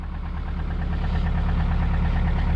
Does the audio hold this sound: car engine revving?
yes